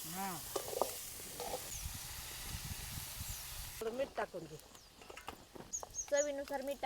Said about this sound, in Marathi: आता हे सगळं छान आपल्याला असं परतून घ्यायचं